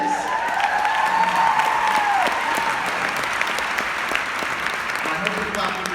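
Sustained applause from a large audience at an Arbonne company event, steady dense clapping throughout with a voice speaking over the start of it.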